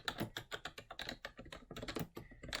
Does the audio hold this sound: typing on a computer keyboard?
yes